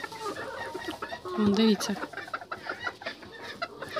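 Several roosters on a farm cluck and call to a hen with short, pitched rhythmic calls rising briefly over a noisy yard, while a person speaks nearby.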